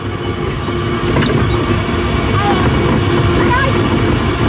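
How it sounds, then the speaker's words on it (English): Monorail ride at Flamingo Land circling an oval track around a monkey island, a steady rumbling run with faint clickety rail noise throughout, close and continuous under outdoor background. "in terms of the monorail ride, it's quite a simple ride. Just kind of takes you around an oval shape around the monkeys"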